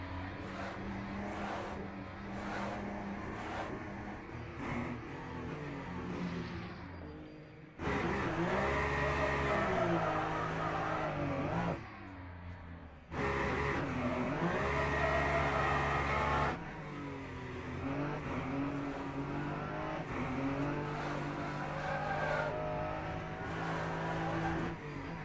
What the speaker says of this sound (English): Cars coming from behind.